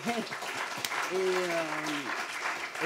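Audience applause at a colloquium on HIV, a faint, steady patter of clapping heard at a distance, with a voice speaking over it in the middle.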